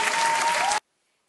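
Loud, dense audience applause on a Romanian quiz game show, a short burst of steady clapping that cuts off abruptly into silence.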